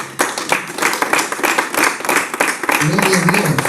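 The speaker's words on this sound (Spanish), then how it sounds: "regalamos una ofrenda de palmas al Señor" Church congregation clapping hands together in a sustained burst of applause, loud and close, with voices calling out over it and a sung or spoken tone rising near the end.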